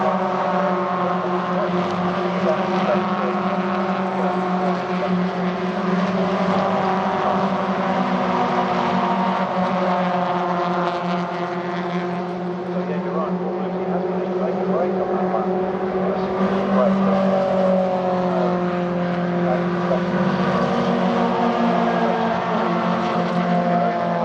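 Engines of MG ZR race cars droning continuously at Silverstone GP circuit as they turn right at Copse Corner during an MGCC Trophy race, a loud sustained trackside roar under a commentator's talk.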